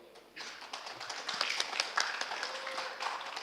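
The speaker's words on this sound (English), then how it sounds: "please give a big applause for him" Audience applause at the ICETIA 2022 conference: a dense patter of many hands clapping starts abruptly and swells slightly, steady and moderately loud, with no talking over it.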